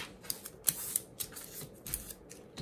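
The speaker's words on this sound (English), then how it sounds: "I actually kind of like cutting applique" Scissors cut applique fabric for a quilted heirloom blanket, with a series of close, crisp snips in an uneven rhythm and short pauses between cuts.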